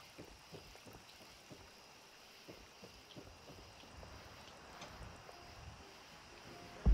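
Gentle water from a park pond in the game Fallout 4, a soft continuous trickling wash with faint ticks, steady and low throughout.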